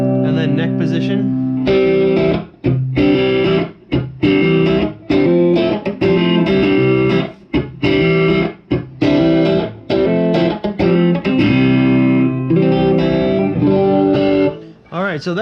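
A Switch Strav-II Vibracell electric guitar on its neck pickup, played clean straight into a tube amp with no pedals: a string of strummed chords and ringing notes with short pauses between phrases, close and full, no voice.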